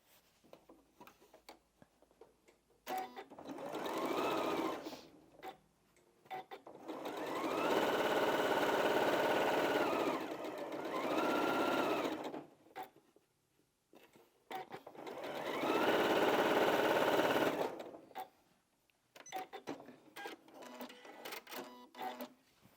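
Close-up sewing machine stitching fabric strips together for a quilted strip bag, running in three long bursts with pauses and faint handling noises between.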